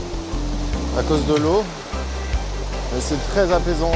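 Loud, steady rush of water fills the cool valley floor at the Arche de Pona, a broad constant roar with a person talking over it throughout.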